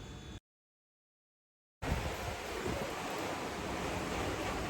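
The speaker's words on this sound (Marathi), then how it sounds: "मस्त हवा सुटली" Wind blowing outdoors, a broad steady rushing roar buffeting the microphone close up, preceded by a brief moment of sound and then a gap of silence.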